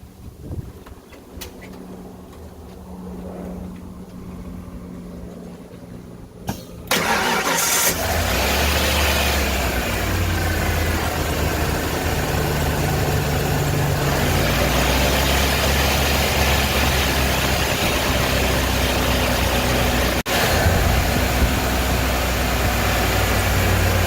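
A car's engine cranks and catches about seven seconds in, then settles into a steady, loud idle that runs to the end, with no talking over it.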